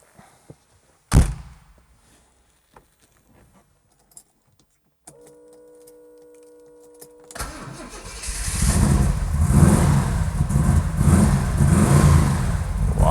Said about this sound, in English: Let us start this immense Ford V8 engines